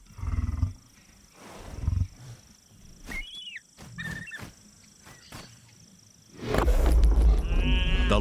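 A lioness in a drought-stricken desert lets out short growling roars near a fresh kill, separated by pauses and bird calls, ending in a louder, sustained rumbling roar.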